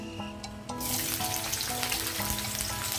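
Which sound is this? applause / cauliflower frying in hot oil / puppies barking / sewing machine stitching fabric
cauliflower frying in hot oil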